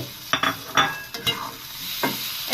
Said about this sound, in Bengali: এখন নোনা ইলিশ দিয়ে ভালোভাবে ভেজে নিতে হবে